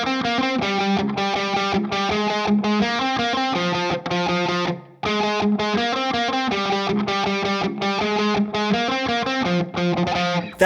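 D: Distorted electric guitar plays the main riff of a song, fast driving palm-muted picking with a short break near the middle, loud and up front with no voices.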